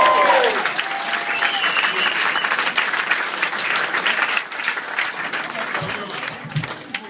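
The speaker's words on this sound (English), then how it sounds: "Let's have another huge, massive round of applause" A concert crowd at a tribute event in New York City in 2013 gives a big round of applause, with loud, dense clapping and a few shouts that fade slowly, and a voice speaks over the start.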